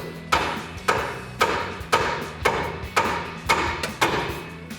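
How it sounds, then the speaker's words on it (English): A hammer strikes the steel steering knuckle of a 2009-2014 Ford F-150 nine times in a steady rhythm, each sharp ringing tap evenly spaced and close. "with a hammer, I'm gonna tap the side of the knuckle right up here until it releases"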